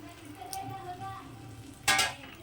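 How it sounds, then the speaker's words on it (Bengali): Pumpkin and prawns fry in a pan with a low, steady sizzle. Near the end a sudden louder hiss bursts up as a little warm water is poured in. "এখন কিন্তু আমি এটার মধ্যে অল্প হালকা গরম জল দিয়ে দিচ্ছি"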